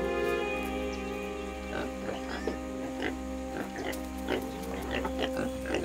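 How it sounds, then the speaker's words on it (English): Feral Ossabaw pigs, descended from Spanish-released swine, grunt in a series of short, uneven bursts over a steady tonal background that continues throughout. "Several thousand strange-looking pigs live in a 100-kilometer square area."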